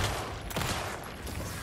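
A sharp gunshot rings out in the horror game Alan Wake 2, a single loud crack with a quick decaying tail, followed by a fainter echoing report under a steady ambient background.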